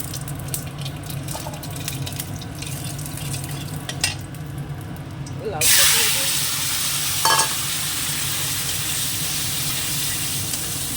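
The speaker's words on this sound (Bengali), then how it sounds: "তাই জন্য ভেজে নিচ্ছি দুটোই তেল দিয়ে দিচ্ছি আবার শুকনো লঙ্কা" Oil frying in a pan with dried red chili, a steady crackling sizzle with occasional clinks, swelling into a louder, brighter hiss midway as more goes in and continuing strongly to the end.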